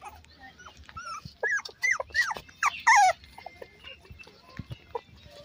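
Beagle, shih tzu and pug puppies let out a few high-pitched whimpers and short yelps at close range over a quiet background, with soft rustling between cries.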